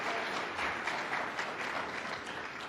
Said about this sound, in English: Let's give our panelists a big round of applause as our next speaker comes up.